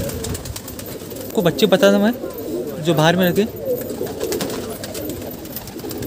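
Pigeons, including wild pigeons, on a rooftop breeding loft give two bursts of close, throaty rolling coos, while someone talks nearby.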